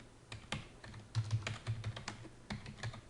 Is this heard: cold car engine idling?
no